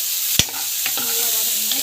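Chana dal, garlic, onion and curry leaves sautéing in a pan, with a steady close sizzle broken by one sharp utensil clack and a few lighter scrapes as the mixture is stirred.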